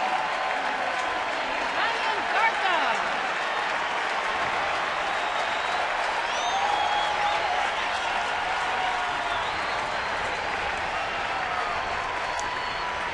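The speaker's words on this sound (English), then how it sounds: "here's Garco, and he should get a very nice applause" Stadium crowd at a Pittsburgh–San Francisco baseball game applauding a player as he comes up, a steady, broad wash of clapping and crowd noise that holds loud throughout, with faint commentator talk beneath it.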